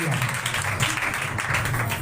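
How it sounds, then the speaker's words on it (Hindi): Audience applause at a gathering, a continuous wash of many hands clapping, moderately loud and steady throughout. "जोरदार तालियां बजाएंगे"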